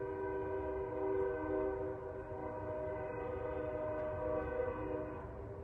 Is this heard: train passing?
yes